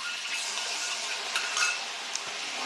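Cashew and poppy seed paste frying in a pan for a fish curry with lemon leaves: a steady, soft hiss and sizzle with faint stirring scrapes and clinks, heard alone with no talking.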